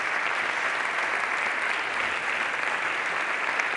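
Dense, steady applause from a festival audience after an evening of short story readings in Brussels, a continuous wash of many clapping hands close by with no pauses.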